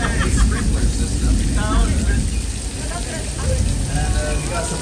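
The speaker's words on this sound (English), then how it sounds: "we use a very highly specialized, technologically advanced system to make it rain here in Old Mexico" Steady hissing spray of artificial rain from a sprinkler system on a studio tour set, falling like heavy rain, constant and close, with a voice faintly audible beneath it.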